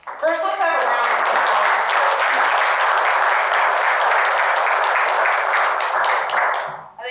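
Audience at a university research talk breaks into applause, a loud, close, continuous burst of many hands that rises quickly, holds steady, then dies away at the end.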